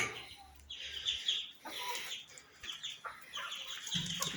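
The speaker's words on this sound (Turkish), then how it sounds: "Bu da bizim psikopat horozumuz." Rooster kept with a flock of farm ducks and poultry, clucking and crowing in several close, loud bursts with chirping fowl around it.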